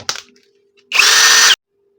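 A MASARU SCDH-125 cordless drill's chuck spins in one short, loud whirring burst of about half a second, following a brief click, with silence on either side.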